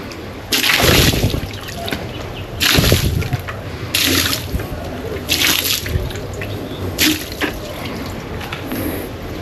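Water gushes in repeated bursts, about five splashy pulses of running water, close by, separated by brief quieter gaps.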